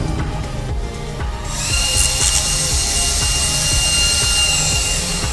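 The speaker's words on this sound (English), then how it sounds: "Let's try the drill." A power drill in the video game Stasis whirs up to a high, steady whine after a short pause and keeps running, over a rhythmic low thumping backdrop.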